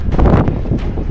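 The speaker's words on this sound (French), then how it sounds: "On est en pleine tempête de vent. Ça souffle vraiment très fort." Strong wind storm gusting across a high mountain route in Corsica, roaring loudly into the microphone with heavy low buffeting throughout the short moment.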